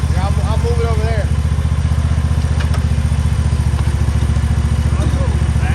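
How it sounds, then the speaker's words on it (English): Backpack leaf blower running steadily during a wet-leaf cleanup, a loud continuous engine drone with a rapid pulsing beat throughout, while voices talk faintly over it. "you want to put the backpack blower on?"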